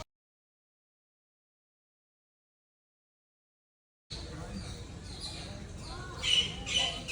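Birds at a zoo squawk and chirp in short bursts after a stretch of silence, fairly close, over a murmur of background noise and voices.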